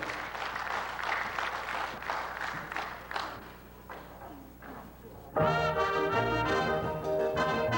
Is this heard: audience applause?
yes